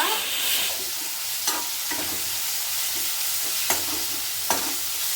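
Onion and tomato with salt fry in a pan with a loud, continuous hissing sizzle, broken by occasional sharp clicks of a spoon stirring against the pan.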